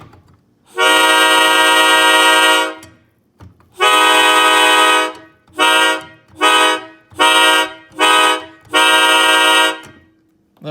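A K5LA five-chime train horn sounds its full chord in six loud blasts: two long ones, three short bursts, then a final long blast, with nothing else heard.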